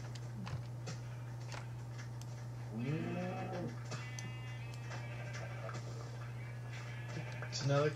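A Minecraft sheep bleats in a video game, one short wavering bleat over a steady low hum, with someone talking at times and a faint second bleat near the end.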